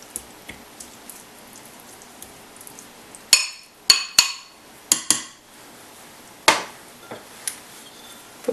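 A spoon stirs a little cardamom into cooked sweet potato in a pot, giving a handful of sharp, separate metallic clinks close by against a quiet background.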